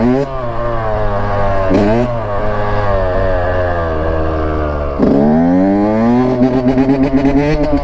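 A Kawasaki KX 100 dirt bike engine revs loud and close, its pitch rising and falling in repeated throttle blips, with sharp surges near two and five seconds and a choppy burst of revs at the end.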